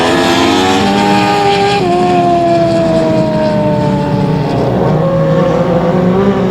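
Dwarf race cars roar around a speedway at a winter race, a loud, continuous engine drone with pitch sweeping up and down as cars pass, close and steady throughout.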